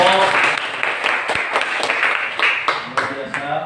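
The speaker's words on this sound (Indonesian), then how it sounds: "tepuk tangan untuk kelompok" Classroom applause for a student group, a few seconds of brisk clapping from a small crowd with a voice speaking over part of it.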